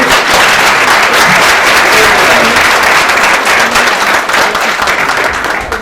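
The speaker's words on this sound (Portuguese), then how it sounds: "Uma salva de palmas, meu amigo." A lecture audience at a Brazilian talk series breaks into sustained, dense applause, many hands clapping steadily and loudly for several seconds without a break.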